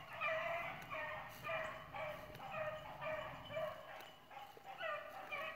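Hunting dogs chasing a rabbit bark and bay in a steady run of repeated, tonal cries, heard faintly at a distance outdoors with some overlapping voices.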